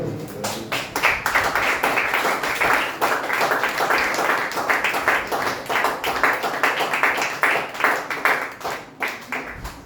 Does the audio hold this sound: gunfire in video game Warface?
no